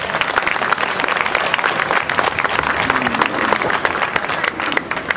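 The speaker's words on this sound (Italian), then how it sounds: "Un applauso." An indoor audience gives a dense, sustained round of applause for a Rome prosecutor being introduced, many hands clapping loudly and evenly throughout with scattered crowd noise.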